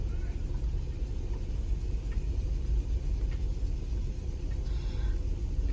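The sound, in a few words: line of cars driving behind horses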